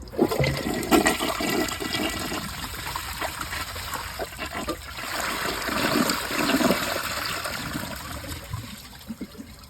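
A high efficiency dual flush toilet flushes nearby with a loud rush of water that swirls and gurgles, then eases into trickling refill over several seconds.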